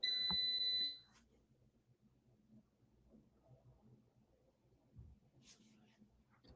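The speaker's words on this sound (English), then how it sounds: "Sorry about that beeping noise." A loud, high-pitched electronic beep sounds for about a second, then cuts off, leaving quiet room noise with faint movement.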